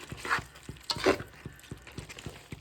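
Peanut chikki mixture is stirred in a pan, soft rhythmic scraping strokes repeating roughly every quarter second, quiet and close, with a couple of brighter scrapes.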